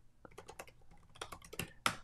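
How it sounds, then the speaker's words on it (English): Quiet, uneven clicks of fingers typing on a computer keyboard, a short burst of keystrokes ending in one sharper tap, with no talking. "Let me just type that into the chat."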